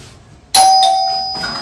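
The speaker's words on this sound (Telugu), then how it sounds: "Calling bell." An electronic doorbell rings suddenly with a bright, clear chime that lingers and fades. It sounds alone, close and loud, with no talking.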